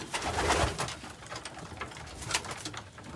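Pigeons cooing in a loft, soft repeated coos and some wing or shuffling noise spread across a steady, moderately close background with no talking.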